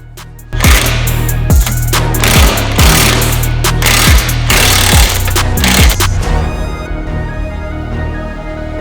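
An impact wrench hammers in repeated loud bursts while removing the lower control arm bolts on a Honda Integra DC2, close and harsh, before trailing off into a quieter whir.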